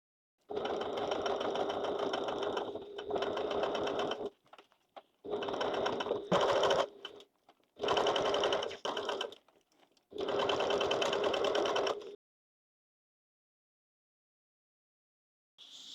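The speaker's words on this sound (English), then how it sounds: "So now we're going to top stitch along that." Sewing machine fitted with a Teflon foot top stitching coated fabric for a zippered bag, running in several separate close bursts of steady whirring with short pauses between, then quiet.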